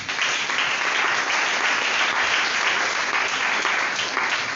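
A church congregation applauding at a French-language service, a dense, even roar of many hands clapping together at a steady level throughout, with no talk over it.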